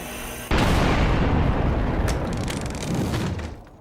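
A grenade detonates in the video game Darktide with a sudden loud boom that rolls into a long, dense rumble of debris and noise before fading.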